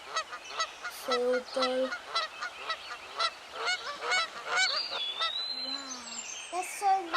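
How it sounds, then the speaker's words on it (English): Geese and swans honk and call repeatedly at a London pond, several birds near and overlapping in short bursts, with a brief spoken phrase among them. "I only know that the white ones are definitely swans."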